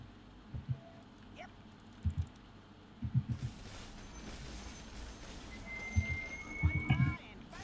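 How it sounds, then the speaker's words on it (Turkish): Bursts of computer keyboard typing, quick clusters of clicks coming in irregular spurts between quieter pauses. "Birinin acayip klavye sesi geliyor."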